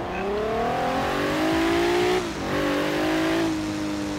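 An off-road-build Jeep Wrangler's engine revs hard in Forza Horizon 3, its pitch climbing steadily, dipping briefly at a gear change, then rising again, loud and close with no talk over it.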